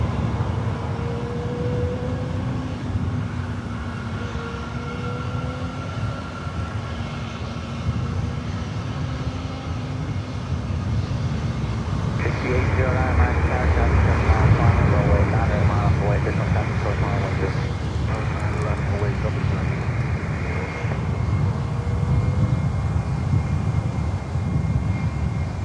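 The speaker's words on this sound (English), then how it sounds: "And the Delta 757 currently approaching." A Delta Boeing 757 airliner on approach to Miami airport, its engine noise a steady broad roar that grows louder midway as it nears, with voices talking over it throughout.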